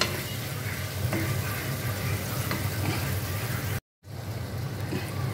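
Sliced tomatoes stirred and frying in a pan of paneer pulav masala, a steady close sizzle throughout with faint scraping stirs, broken by a brief silent gap near the end.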